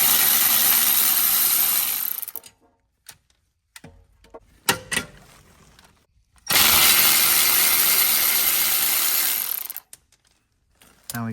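An air-powered tool spins out E12 Torx bolts on a Porsche 992 Turbo S exhaust, two loud sustained rattling bursts separated by a quiet stretch of clicks and clinks, ending with a brief final burst.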